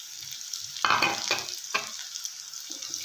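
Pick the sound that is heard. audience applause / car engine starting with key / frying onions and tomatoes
frying onions and tomatoes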